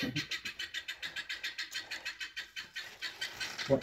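Chickens or small farm birds on a small farm give a quick, steady run of short repeated calls, close and moderately loud.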